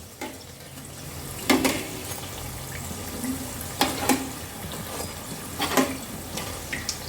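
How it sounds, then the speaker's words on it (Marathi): Wheat-flour Maharashtrian karanji frying in oil over a low flame, giving a steady close sizzle with a few louder crackling bursts. "मंद आचेवर करंजी भाजून घ्यायची."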